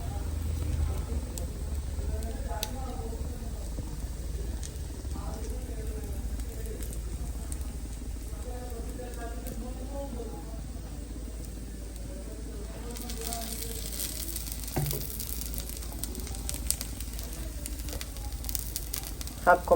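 A dosa topped with chutney powder and oil roasts on a pan, giving a steady, soft sizzle that runs throughout, with a few light clinks toward the end.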